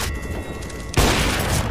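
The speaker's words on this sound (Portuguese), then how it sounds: "Toca tiro, Luqueta." Gunfire in a deathmatch aim-training session of a first-person shooter: a continuous burst of loud rapid shots, growing denser and more forceful after the first second, with no talking.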